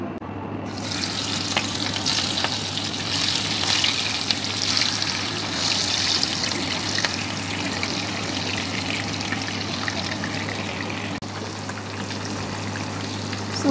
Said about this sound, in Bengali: এখন আমি মাছগুলো ভেজে নিচ্ছি।